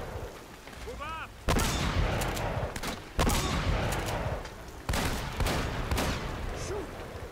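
Heavy gunfire in Uncharted: Drake's Fortune, with several loud broadband bursts of shots and booming reports in the final boss fight, sustained for several seconds, with a brief voice heard early on.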